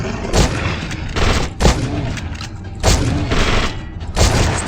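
Gunfire in the horror video game The Suffering, with loud, near shots firing in repeated bursts and brief pauses between them.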